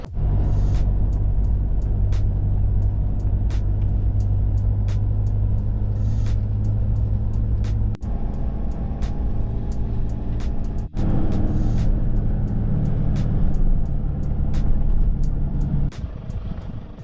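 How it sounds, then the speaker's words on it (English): A car driving along the sand at Coffin Bay on the Eyre Peninsula, with a loud, continuous low engine and tyre rumble. Sharp clicks and knocks recur throughout as the vehicle travels over the beach, and there is no talking. "So just driving along the beach in Coffin Bay"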